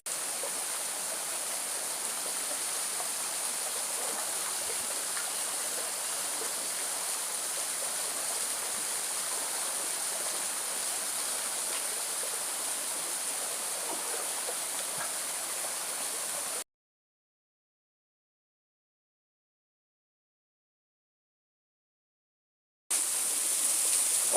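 A waterfall in Todmorden gives a constant, broad rushing hiss, close and steady, heard alone. It drops to silence for several seconds before the roar returns.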